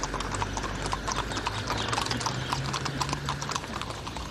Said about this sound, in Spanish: se dirigen a caballo hacia el festival